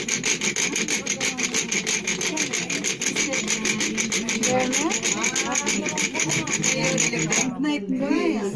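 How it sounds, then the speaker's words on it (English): Rapid, rhythmic rasping of wood being bored by a hand drill, steady back-and-forth strokes, close by, with voices talking over it. "It's actually a drill, which he is going to show you."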